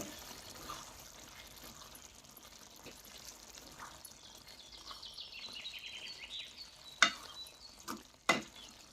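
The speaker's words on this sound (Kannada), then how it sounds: "ಚಮಚ ತೊಗೊಂಡು ತಿರುಗೊಂಡ್ರಿ ಅಂದರೆ ಮಿಕ್ಸ್ ಮಾಡೋಣ್ರಿ" A spoon stirs a sizzling vegetable huli palya curry, giving a quiet continuous bubbling sizzle with soft scraping and a few sharper clinks of the spoon against the pot near the end.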